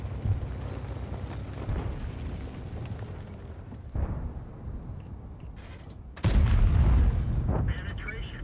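Tank cannons boom in World of Tanks, a continuous rumbling battle bed punctuated by a heavy shot midway and a loud, sharp blast near the end that lingers in a roaring tail; no talking.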